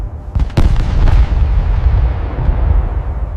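Heavy WWII German artillery opens fire before dawn on the Allied front, giving loud booming blasts that roll into a continuous deep rumble with a few sharper cracks, close and dominant.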